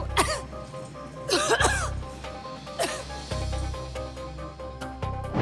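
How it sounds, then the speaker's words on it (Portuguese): Several short, sharp coughs burst out over a steady hum of background chatter and music, one near the start, a stronger pair mid-way, another later. "Começou a tossir de propósito em cima das pessoas que estavam usando a proteção"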